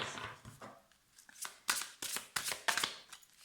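Oracle cards shuffled and drawn by hand, a run of soft papery riffles and sharp slaps that grow louder toward the end, close by with no talking.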